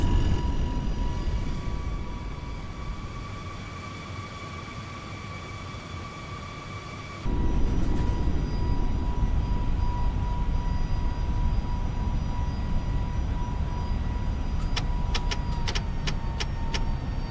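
An airliner in a flight simulator game roars through its takeoff roll and climb, a loud steady engine rumble that steps up sharply partway through, with brief ticking clicks near the end.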